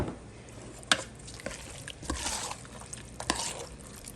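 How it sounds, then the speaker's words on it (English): Sauce from a big can being stirred into a breakfast burrito filling: wet squishing, scraping stirs with a few sharp clinks of the utensil, close and moderately loud. "I am going to add and stir"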